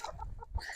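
Hens clucking at morning feeding time on a small farm, several birds making short, bright clucks in quick succession, close by with no talking.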